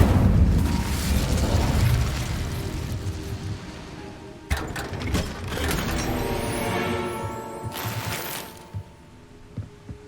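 Incendio fire spell cast in Hogwarts Legacy, a loud whooshing roar with bursting pops that fades, then a second flaring burst midway and a sharp crackling flare near the end, with mechanical clicks throughout.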